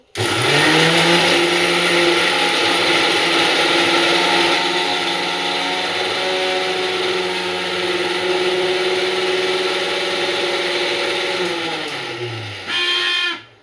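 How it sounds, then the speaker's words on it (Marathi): A kitchen mixer grinder makes a paste of garlic and green chillies, a loud steady whirring motor that runs for about twelve seconds, then winds down with a brief rattle as it stops. "मिक्सरचा आवाज आला असेल तुम्हाला. हे बघा, फाईन एकदम लसूण हिरवी मिरचीची पेस्ट केली आहे."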